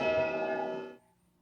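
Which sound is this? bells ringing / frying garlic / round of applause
bells ringing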